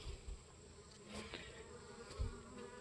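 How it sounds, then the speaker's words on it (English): Honey bees buzz faintly around seedling trays set out as a water source, with soft intermittent hums as individual bees fly close by in a quiet outdoor setting. "I have this over here that's also got bees getting water out of it."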